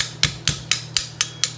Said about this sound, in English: now we take our polymer hammer,